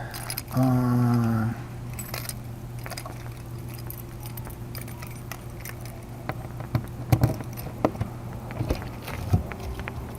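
A bunch of keys jangles briefly up close near the start, followed by scattered soft clicks and handling knocks against a steady background hum.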